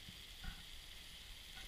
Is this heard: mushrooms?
yes